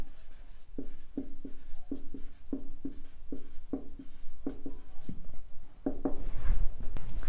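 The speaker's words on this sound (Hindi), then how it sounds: "तो हम यहां पे लिखेंगे ट्रांजिटिविटी।" Chalk or pen writing out a word by hand on a board, a quick series of short, crisp taps and scratches in an uneven rhythm, close and clear, with no talking.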